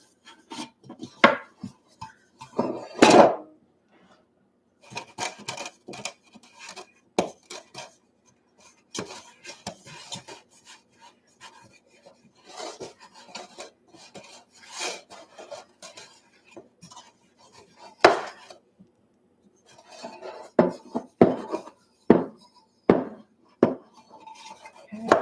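Hands greasing the sides, bottom and tube of a cake tube pan with Crisco shortening, heard as irregular close rubbing and scraping bursts against the metal pan, with scattered knocks and pauses between strokes.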